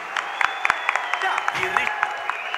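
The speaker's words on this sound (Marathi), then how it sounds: "त्यांच्यासाठी एकदा जोरदार टाळ्या झाल्या पाहिजेत." At a political rally, the crowd claps in sharp, regular beats while a voice carries on over the applause.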